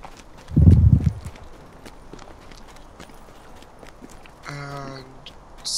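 Horse hooves clip-clop briefly in the Lord of the Rings Online video game, a short loud burst of steps early on, followed by quieter game sounds and a chiming effect.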